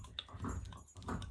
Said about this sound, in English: You'll hear my dogs crunching on their circle bones.